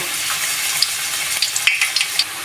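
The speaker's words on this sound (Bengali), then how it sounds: "পেঁয়াজটাকে আমি হালকা ব্রাউন কালার করে ভেজে নেব" Onion frying in a pan until light brown, a steady hiss of sizzling oil with small sharp pops and clicks scattered through, close and fairly loud.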